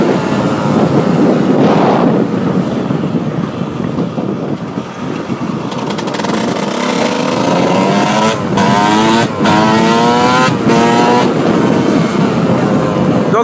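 A GasGas 125 EC two-stroke enduro motorcycle revs loud and close, its engine climbing through rising gear sweeps with sharp shifts and throttle blips.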